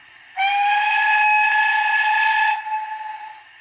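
A Dapol O gauge Pannier Tank model locomotive's sound unit gives a single long, steady steam whistle with a breathy edge. It starts sharply, holds for about two seconds, then cuts off, leaving a brief hissy tail.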